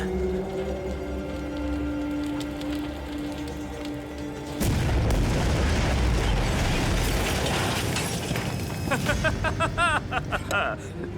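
A low rumble gives way to a sudden loud blast, followed by crackling, roaring debris and scattered sharp pops as the noise slowly fades.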